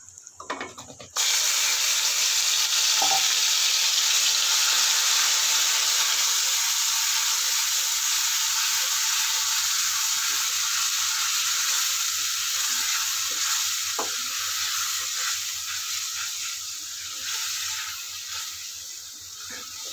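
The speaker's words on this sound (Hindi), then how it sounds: "अभी इसी तेल में हम मिक्सचर किया हुआ मसाला ऐड कर देंगे" Mixed spice masala hits hot oil left over from frying stuffed parwal, setting off a loud, steady sizzle that starts abruptly and continues without a break, easing off slightly toward the end.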